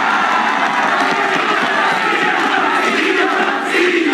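A Fliptop rap battle crowd roars in a dense, continuous wall of cheering and shouting for Sinio's line, loud and sustained throughout with overlapping voices.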